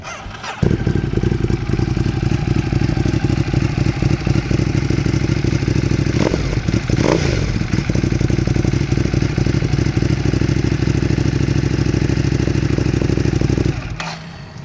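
A 2018 Ducati Monster 821 Performance with Italian aftermarket exhaust idles for about thirteen seconds, a loud steady low rumble with slight revs in the middle before it cuts off.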